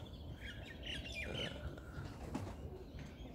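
Pigeons let out of their cages, with faint squawks, chirps and a brief flutter of wings over a quiet background.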